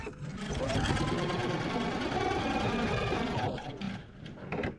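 A sewing machine stitches a dress seam in a steady, fast mechanical whir with rapid needle clatter, running for several seconds before slowing and stopping, with a person speaking over it.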